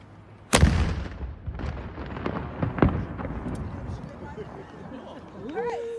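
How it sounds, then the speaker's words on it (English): Noon gun cannon firing at the Halifax Citadel: one sharp, loud boom followed by a rolling echo and a few lesser cracks, with crowd chatter and a voice talking throughout. "That's the famous noon gun at Halifax Citadel"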